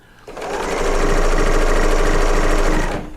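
A serger sewing machine runs in a single fast, steady burst of about three seconds while stitching quilt pieces. Its rapid mechanical whir is close and loud and stops cleanly, with no talking over it.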